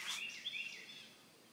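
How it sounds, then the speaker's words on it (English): Birds chirp and sing outdoors on a pleasant evening at sunset, a few bright, quick calls close together, moderately faint with no talking. "You guys hear the birds?"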